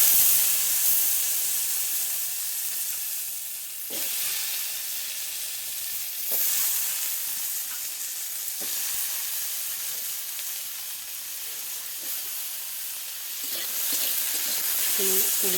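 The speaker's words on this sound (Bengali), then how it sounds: "কুমড়ো আর মূলোটা হালকা করে নেড়ে নেবো।" Pumpkin and radish fry in hot oil with a constant loud sizzle and hiss, while a utensil stirs through them in occasional scraping strokes close by.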